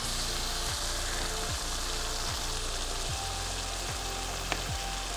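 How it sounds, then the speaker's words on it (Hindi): Keema frying in a pan with green chillies and masala, a steady loud sizzle with regular scraping strokes from stirring roughly every second. "साथ साथ कीमा चलाते रहेंगे ताकि हमारा मसाला नीचे ना"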